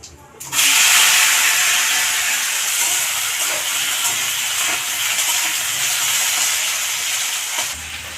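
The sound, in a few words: potatoes frying in a pan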